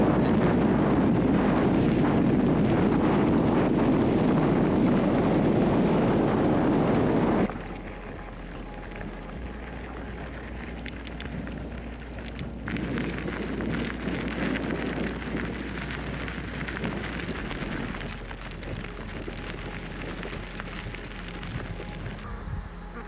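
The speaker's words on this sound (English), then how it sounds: "Can you hear that wind? It's ferocious." Ferocious wind buffets a microphone while bikepacking beside a dam in the Australian outback, a loud roaring rumble that drops abruptly partway through, then continues as a lower, gusty rush.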